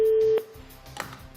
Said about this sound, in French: J'appelle donc Martial, c'est parti.